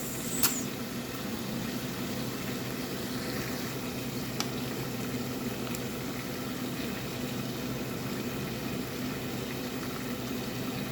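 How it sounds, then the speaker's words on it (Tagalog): A pot of water boils steadily for fettuccine noodles, a continuous soft bubbling hiss close by that holds even throughout, with no talk over it. "Kumukula na, guys."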